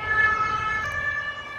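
A police Volvo V90 sounds its siren during a high-speed emergency driving test, a loud sustained wailing tone held steadily over road noise, with no voices.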